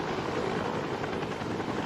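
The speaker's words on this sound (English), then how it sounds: "Holly was taken by Research Eagle helicopter to Lutheran Medical Center" A Research Eagle rescue helicopter flies with a steady, loud rotor drone and engine whine that stay constant throughout, with no speech over it.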